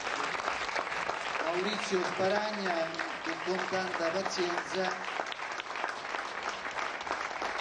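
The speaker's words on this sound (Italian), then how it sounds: "e allora applaudiamo anche il maestro" An audience claps steadily for the choir master at a regional choir showcase in Ciociaria, a dense round of applause running the whole time while someone speaks clearly over it.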